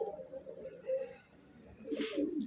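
Pigeons in a loft cooing softly in low, repeated murmurs, with a few sharper chirps and a brief rustle of wings near the end, close by and fairly quiet.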